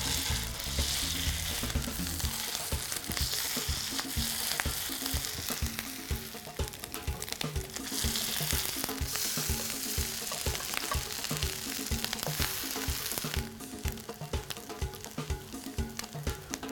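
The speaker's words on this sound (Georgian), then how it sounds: "პოლენტას პატარა ბურთებს გავაკეთებ და ტაფაზე გავშლი." Small polenta balls frying in hot oil in a pan, a loud, continuous sizzle with dense crackling and spitting that carries on without pause.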